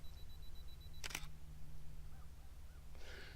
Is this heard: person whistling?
no